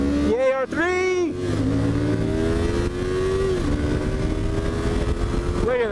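A Yamaha R3 300cc motorcycle revs up close by, its engine pitch rising and falling through several throttle pulls with wind noise behind it and no talking.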